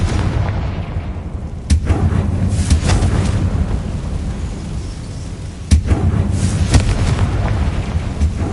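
A Confringo fire spell in Hogwarts Legacy gives two loud, sharp bursts a few seconds apart, each trailing into a rumbling boom over a steady low ambient roar, with no speech.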